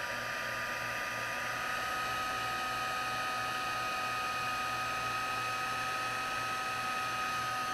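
A heat tool melts copper embossing powder during a faux metal craft technique, giving a steady, unbroken fan-driven whir with a constant hum and no talk over it.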